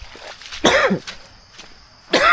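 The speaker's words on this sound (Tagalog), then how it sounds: "Hindi na nawala ang ating ubo." Two harsh, close coughs from a lingering cough, separated by a short pause, with a few faint small noises in between.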